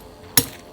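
A hammer strikes a zinc anode on a boat's metal shaft, giving one sharp, close metallic hit that rings briefly and then fades.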